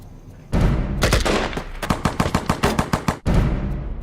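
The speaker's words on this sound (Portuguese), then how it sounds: "Mas o mais importante é que não tenham medo dos ruídos dos tiros." Loud, close bursts of rapid gunfire, a fast rattling volley of shots that cuts off abruptly before resuming.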